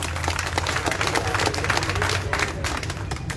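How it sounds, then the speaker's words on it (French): Audience at a press conference applauding, a dense, steady patter of many hands clapping throughout, moderately loud and close with a murmuring crowd underneath. "Ça mérite des applaudissements."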